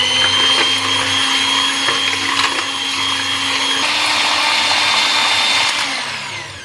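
An electric blender churns cream into butter for homemade desi ghee, a loud steady motor whine running continuously with a slight pitch shift partway, then tapering off at the end; no talking.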